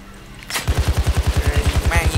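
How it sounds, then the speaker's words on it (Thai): A machine gun fires at a car in Payday 2, a fast, steady burst of about fifteen loud, close shots after a brief quiet lead-in, with a voice talking beneath the gunfire. "เราต้องยิงรถทิ้งครับรถแม่งถึกมากอ่ะไม่เคยพัง"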